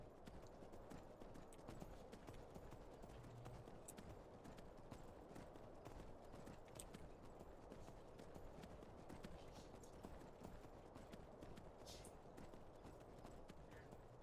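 Horses' hooves clip-clopping steadily on a mountain climb in Skyrim, a dense continuous trot heard faintly beneath a constant wash of ambient noise.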